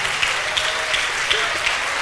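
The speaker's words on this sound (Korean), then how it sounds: "여러분 시간 나오라고 그럴 때 좀 격려 박수 세게 좀 해주세요." A church congregation claps for a 16-year-old preacher, a brief burst of dense, steady applause with scattered sharper claps standing out.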